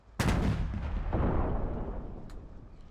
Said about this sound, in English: And then the main gun.